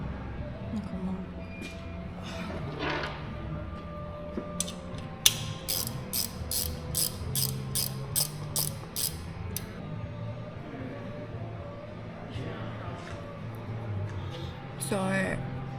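A ratchet clicks while screws are removed from a rusty Harley-Davidson, with scattered bursts early on and a fast, even run of clicks in the middle, over room noise and intermittent talking.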